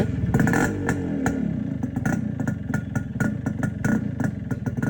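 A Yamaha RX100 motorcycle engine, just fitted with its silencer, runs steadily at close range with a rough, throbbing idle and a slight rev, giving a clattery mechanical rumble throughout.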